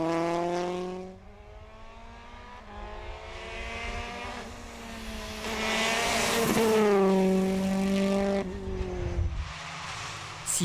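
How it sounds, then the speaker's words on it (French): A Peugeot 208 T16 rally car driving in the Coupe de France des Rallyes final, its engine loud and close, revving up and down through gear changes with tire noise, and no talk. "Bruno Longépé n'a pu faire mieux que 7e au volant de sa 208 T16."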